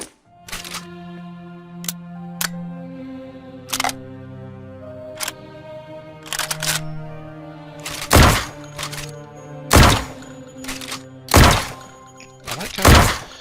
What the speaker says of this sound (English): SKS rifle.